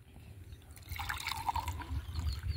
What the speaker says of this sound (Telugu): ఈ జగ్గులు ఉన్నాయి, గ్లాస్లో పోసుకొని తాగు